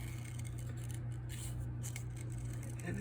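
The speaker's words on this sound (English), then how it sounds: "So I'm just going to take my snips" Small metal snips crunch through paper as flower petals are cut out, a run of soft, rapid snipping and rustling strokes close by over a steady low background hum.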